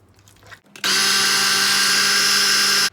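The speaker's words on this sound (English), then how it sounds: "if you obviously have like a better, bigger blender, whatever, pretty much anything could probably handle this" A blender whirs tofu for a vegan quiche, starting abruptly after a quiet moment and running at a steady, loud, unbroken roar for about two seconds before cutting off.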